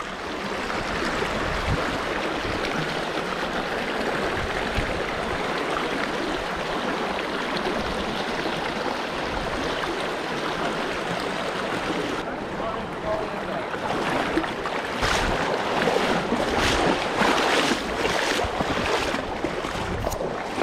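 A clear creek for smallmouth and rock bass fishing rushes steadily around a wading angler, a constant broadband wash of flowing water with some splashing toward the end and no talking.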